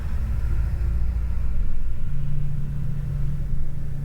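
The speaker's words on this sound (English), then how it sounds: "I hear the school bus going by." A school bus passes outside as a low, steady rumble that swells slightly and fades, heard distantly through a room with no talking.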